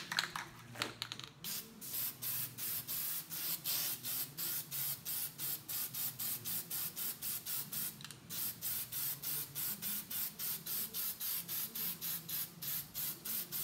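Short, rhythmic bursts of spray paint hiss onto a foam goose decoy head, regular pulses at close range, fairly quiet, with a brief fuller spray near the start.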